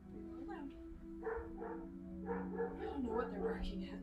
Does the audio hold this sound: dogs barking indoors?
yes